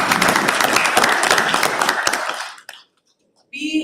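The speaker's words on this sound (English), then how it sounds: "Let's clap hands for ourselves" An audience at a business indaba applauding together: dense, loud hand clapping for about two and a half seconds that fades out, then brief quiet before a voice returns.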